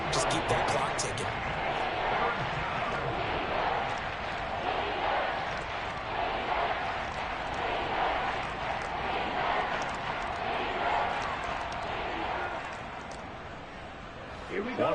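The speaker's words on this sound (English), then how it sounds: "The crowd getting into it as we come up on a big 3rd down." A football stadium crowd roars ahead of a big third down, a dense, continuous wash of cheering noise that stays loud throughout and dips slightly near the end.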